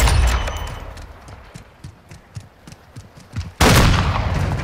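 Sniper rifle shots in a video game, a few sharp cracks scattered among quieter game noise, ending in a sudden loud burst of sound.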